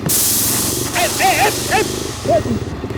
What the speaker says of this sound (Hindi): देखो मेरा टायर पंक्चर हो गया